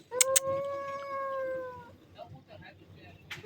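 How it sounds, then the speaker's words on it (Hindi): Cat stuck on a shop roof gives a long, drawn-out angry meow, close and loud, followed by quieter rustling and a faint sharp noise near the end. "बिल्ली हमारी दुकान की छत पर फंसी हुई है"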